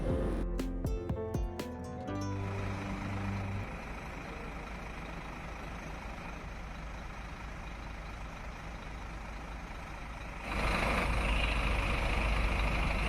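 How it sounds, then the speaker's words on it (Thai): A VIP intercity coach on the Ubon–Korat–Phuket route idles, then reverses out of its bay at the bus station, with beeps at the start, a low steady engine drone and a louder surge near the end. "ตอนนี้ก็ได้เวลารถเที่ยว 9 โมงเช้าถอยออกจากจานฉลาแล้วครับ"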